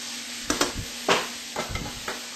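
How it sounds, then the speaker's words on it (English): Chicken breast sautéing in a pan, a steady sizzle broken by several sharp stirring scrapes and pan knocks at close range, with no voices. "lightly saute your chicken breast to the golden brown on both sides"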